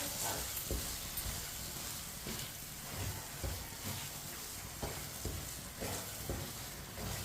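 Sugar is stirred into walnut halwa in a pan, with soft scraping strokes repeating over a quiet, continuous sizzle.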